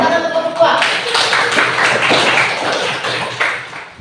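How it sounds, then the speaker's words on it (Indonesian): Classroom clapping for a student group, a burst of hand claps and taps over about four seconds with some voices mixed in, fairly close and moderately loud. "Tepuk tangan untuk kelompok 2."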